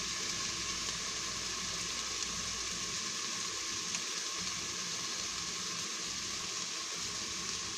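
Steady, dense hiss of food sizzling in a hot frying pan while being stirred, continuous and even throughout, with no voices.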